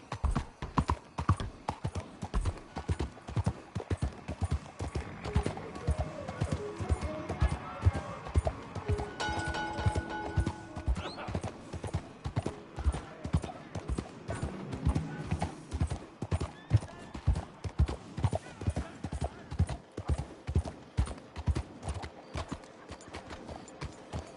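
Horse hooves clip-clop in Red Dead Redemption 2 in a brisk, steady rhythmic beat that runs throughout, loud and close, with a whinny and passing game voices talking over parts of it.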